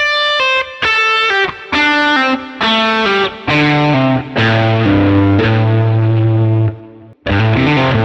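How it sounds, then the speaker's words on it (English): Overdriven electric guitar descending a scale in pairs of notes, each second note sounded by a pull-off, steady rhythm, loud and upfront, no voices. "So let's play through the scale backwards using pull-offs."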